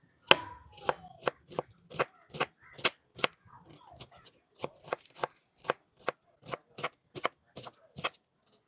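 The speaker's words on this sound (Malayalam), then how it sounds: "നമുക്ക് നമ്മുടെ സവാളകളെല്ലാം ഒന്ന് കട്ട് ചെയ്തെടുക്കാം." A knife chops onions on a board in a brisk series of sharp, close taps that come in short bursts with brief pauses.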